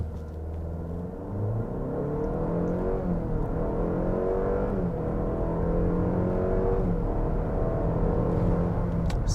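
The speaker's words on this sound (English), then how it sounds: "I've never actually 0 to 60 tested this vehicle, so let's go ahead and see what we can get." 2023 Cadillac XT4 compact luxury SUV launching hard from a stop in sport mode with all-wheel drive locked and traction control off, engine rising through the gears in a steady climbing drone with shift dips, heard from inside the cabin.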